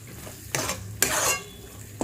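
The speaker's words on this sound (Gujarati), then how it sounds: "આ મિક્સ કરી લઈએ." A spoon scrapes and clanks against a pot while a spiced vegetable dish is stirred, with three sharp metallic strokes close up over a soft background hiss.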